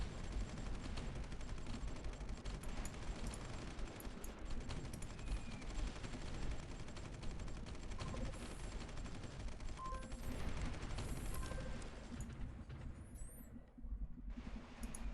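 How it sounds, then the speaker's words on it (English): Missile fire and shelling in the strategy video game Supreme Ruler Ultimate, a dense continuous rumble of rapid gunfire-like bursts and booms that stays loud throughout, thinning slightly near the end. "Are we actually being shelled up here? We are being shelled."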